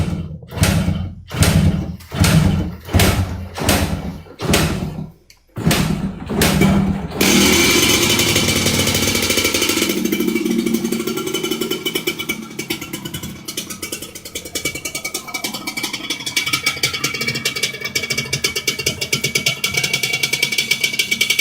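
A motorcycle fitted with a 3BS exhaust starts up after a run of rhythmic cranking bursts, then settles into a steady, continuous engine drone close by.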